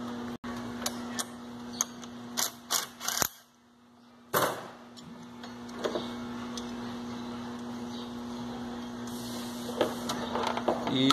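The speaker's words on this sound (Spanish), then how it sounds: "Vamos a quitar un tornillo 13." Someone works a 13 mm bolt loose on a Chevrolet 5.7 engine, making scattered sharp metallic ticks and clicks close by, with a brief pause midway over a low steady hum.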